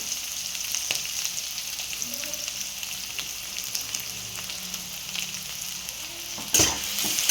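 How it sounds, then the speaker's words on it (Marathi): Onion and curry leaves frying with mustard seeds in hot oil, a steady close sizzle with light crackles and stirring throughout, ending in a brief louder clatter. "त्याचबरोबर आता आपण याच्यामध्ये कढीपत्ता टाकून घेऊया व कांदा देखील परतून घेऊया"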